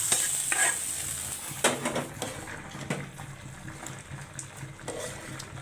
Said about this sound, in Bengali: এভাবে ভালো মতো ভেজে নেবেন পেঁয়াজ রসুন শুকনা মরিচ